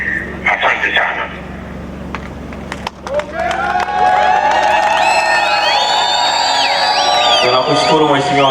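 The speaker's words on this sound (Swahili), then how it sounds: "nadhani makofi na vigelegele umevisikia" An audience at a public gathering breaks into loud applause mixed with warbling, high-pitched ululation that swells and carries on, preceded by a short burst of voices and clapping.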